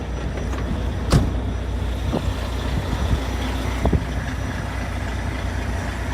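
A company semi-truck with a rolling-tarp trailer idles nearby in a steady, unbroken low rumble, with a few brief clicks and knocks over the drone and no talking.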